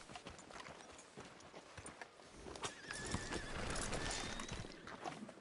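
In the Western video game Red Dead Redemption 2, a horse gives a whinny over the scattered clip-clop of hooves on the ground, quiet and slightly distant, with no voices.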